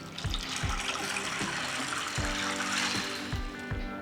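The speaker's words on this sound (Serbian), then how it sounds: "Pasulj ću preliti sa hladnom vodom." Cold water poured over dry speckled beans in a bowl, a continuous close gushing rush with soft low knocks underneath, no talking.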